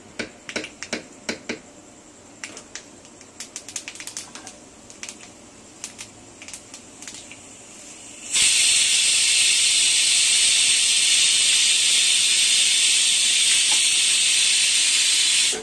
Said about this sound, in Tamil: எண்ணெய் சூடானோன்னு கடுகு போட்டு, கடுகு பொரிஞ்ச உடனே கொஞ்சம் உளுந்து அதை கொஞ்சம் செவக்க விடணும்